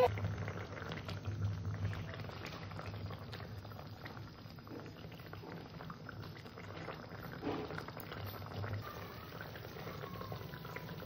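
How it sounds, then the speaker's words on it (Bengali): Khoyra fish curry with mustard-poppy paste simmering in a pan, a steady, close bubbling boil that holds an even level throughout with no voices. "সর্ষে পোস্তটা দিয়েছি, আবার একটু ফুটিয়ে নেব"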